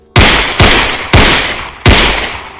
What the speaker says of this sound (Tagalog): sunod-sunod na putok ng baril.